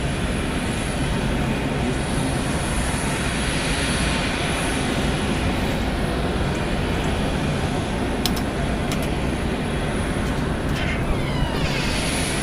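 Aircraft at Atlanta Hartsfield-Jackson International Airport, a loud, steady broadband engine roar that holds through the whole stretch with a few faint clicks, and no voices.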